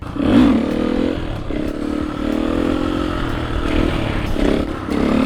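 A supermoto motorcycle engine drones steadily and loudly throughout while the rider drags a boot along the ground, with faint scraping and clatter mixed into the continuous roar.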